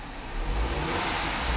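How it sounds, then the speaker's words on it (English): A 1.6-liter four-cylinder 2011 Mini Cooper Clubman revs while parked, giving a loud, steady engine roar with a low rumble that holds and swells slightly, no talking over it. "Let me rev the engine."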